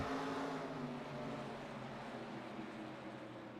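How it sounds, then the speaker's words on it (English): Race cars accelerating together at the green flag at Langley Speedway, a steady loud engine roar that holds for several seconds and eases slightly toward the end. "Grady Gherkin on the loud pedal. Green, green, green."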